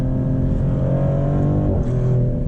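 A 2025 Maserati GranCabrio Trofeo accelerates, its engine a steady, rising drone heard from inside the car, holding firm with a slight shift near the end and no voices.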